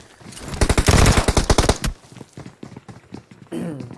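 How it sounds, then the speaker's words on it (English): AK rifle fire in a PUBG match: several rapid bursts of loud, close automatic shots, then scattered single shots and a final burst, with no talk. "Shooting with the AK gets the Corey."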